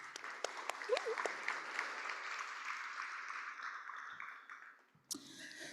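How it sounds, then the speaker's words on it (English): Crowd applause at a civic democracy summit, a steady wash of clapping with a few sharp individual claps standing out, fading toward the end before a brief louder burst. "Clap it up for being here."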